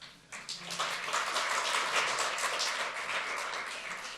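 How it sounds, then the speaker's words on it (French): Audience applause for presenters at a tech talk on Docker and Podman, a dense patter of clapping that swells after a quiet start and holds steady, fairly faint and distant. "Applaudissez s'il vous plaît."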